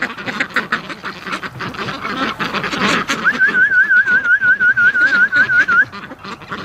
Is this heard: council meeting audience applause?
no